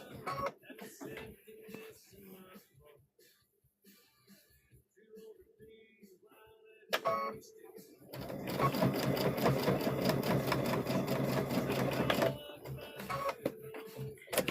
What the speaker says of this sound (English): I'm just sewing right next to that interfacing there.